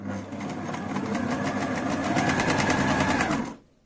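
A vintage Frister and Rossman Cub 4 sewing machine runs at a steady fast pace, its needle mechanism chattering in a close, loud rhythmic whir that stops abruptly near the end.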